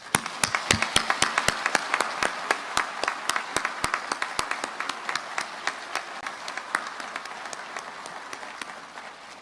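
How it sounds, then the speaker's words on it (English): An audience at an Army officer candidate ceremony at Fort Benning gives sustained applause, many hands clapping in a dense, even patter that slowly softens. "Please join me in a round of applause for your officer candidates."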